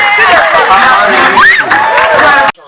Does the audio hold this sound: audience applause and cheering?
yes